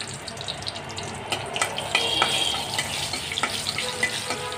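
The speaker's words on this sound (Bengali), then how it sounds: "এগুলোকে প্রথমে একটু ভেজে নিব।" Two bay leaves and three dried red chilies frying in hot oil in a wok, a steady close sizzle and crackle with small popping bursts, no talking over it.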